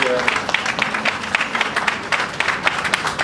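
An audience applauds elected officials at an electric bus unveiling, a dense, even patter of clapping from a crowd that holds steady for the whole stretch.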